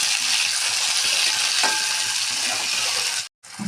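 Tomatoes sizzle steadily in a hot pan for a pasta sauce, a loud, even frying hiss with a brief break near the end.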